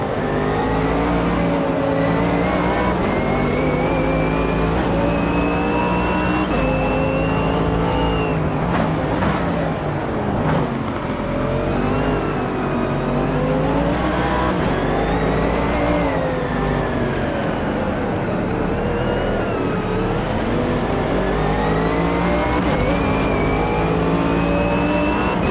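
A race car engine in a racing video game, apparently a McLaren, roars loud and close throughout, revving up and down through gears with rising and falling whines and no talk over it.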